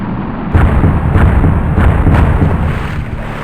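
Missile explosions in a video game: a sudden heavy boom starts a loud, sustained rumbling roar that slowly fades, close and dominant, with no talk.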